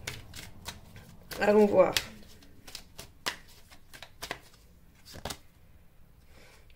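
Tarot cards are handled and drawn, one laid over another on a table, giving quick papery slides and soft taps, with a brief burst of shuffling and someone speaking French in between.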